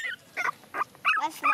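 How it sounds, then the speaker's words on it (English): A small puppy makes short yips and whimpering barks, four or five close bursts with brief pauses between them. "Oh, little dog."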